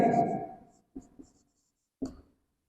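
Marker or chalk writing on a board during a physics lesson, a few short scratchy strokes in quiet bursts, close and fairly clear after a brief stretch of speech-like sound at the start.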